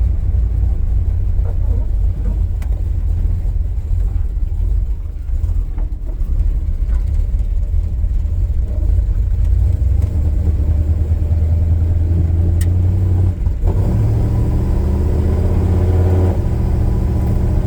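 A 1970 Dodge D100 pickup truck accelerating, its engine a steady loud rumble from inside the cab that deepens and swells in the later seconds, with no talk heard.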